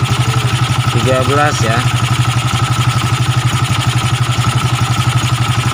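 A Yamaha Nouvo motorcycle engine idles without throttle, a steady close pulsing chug with even rhythmic beats, while someone speaks over it briefly.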